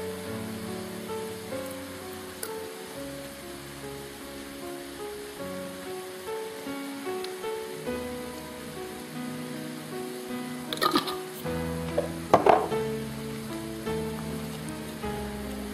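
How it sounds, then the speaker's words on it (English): Tomato sauce for spaghetti bolognese sizzles and bubbles steadily in a pan, a close, continuous crackling hiss with a few sharper clatters from the pan near the end. "Put the sauce in there."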